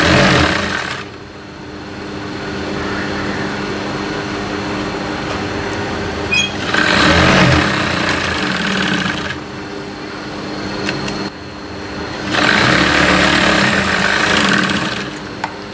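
Sewing machine stitching fabric for a triangular table-top pouch, running in loud bursts of rapid whirring at the start, around seven seconds and again near the end, with a quieter hum between them.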